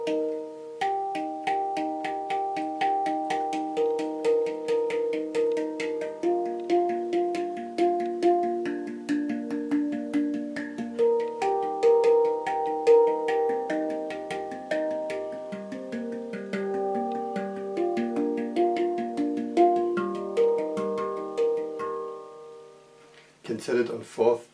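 Hang handpan struck in a steady rhythmic pattern of ringing metallic tones and quick double strokes, played alone with a clear, resonant sound and a brief burst of different tones at the end.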